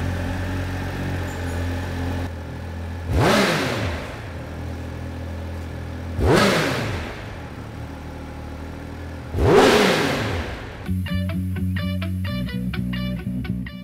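A Triumph Speed Triple 1200 RS motorcycle with a race-only exhaust revs three times in sharp, loud bursts from idle, each rev falling back to a rumbling idle, and the engine finishes with a lumpy, uneven burble.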